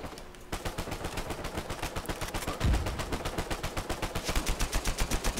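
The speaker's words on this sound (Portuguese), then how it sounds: "tem um bichão louco ali atirando" Rapid automatic gunfire from the Uncharted 4 video game rattles in dense, continuous bursts, loud and close, with a heavy thump partway through and the shots continuing steadily to the end.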